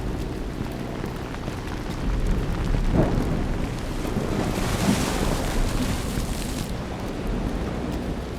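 Rain hisses steadily under a thunderstorm in the horror game Lazaret, with a dull rumble of thunder swelling in the middle, a continuous, enveloping wash of weather noise.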